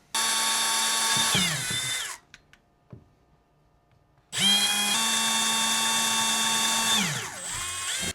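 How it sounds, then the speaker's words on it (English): Power drill boring holes through the side of a plastic Brio RC train toy, two loud close whining runs that wind down, separated by a pause with light handling clicks. "I'm just going to drill my hole through the side of the toy here"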